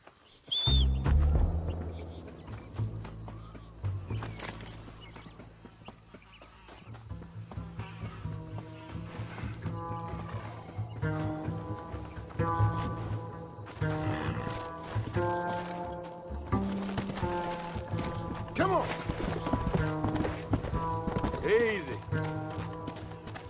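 Horses galloping in Red Dead Redemption on PS4, a continuous rapid clip-clop of hooves under a musical score and occasional spoken dialogue.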